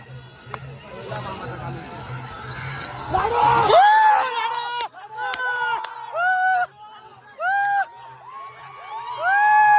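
A crowd cheers and whoops at a bullock cart race, loud and close, with excited shouting voices rising in bursts and people talking over the noise.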